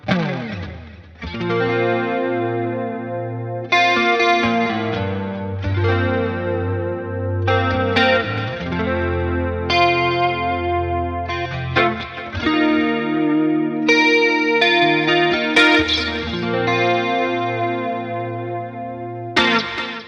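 Fender Stratocaster electric guitar playing chords and melodic phrases through heavy 1980s-style effects, with chorus shimmer and some distortion, continuous and fairly loud for the whole stretch.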